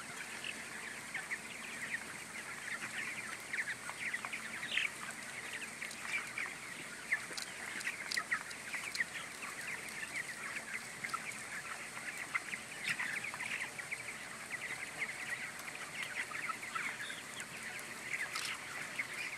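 Broiler chickens cluck and chatter continuously inside a large chicken house, a dense, fairly quiet flock murmur with scattered sharper calls over a steady background of ventilation noise.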